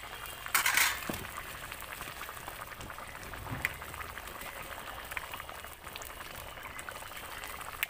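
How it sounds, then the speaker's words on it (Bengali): Rohu fish curry bubbling in a pot, a low steady simmer with soft popping, a brief clatter of utensils near the start and a few faint clinks. "এই যে দেখো ঠিক এরকমভাবে ফুটতে দিতে হবে।"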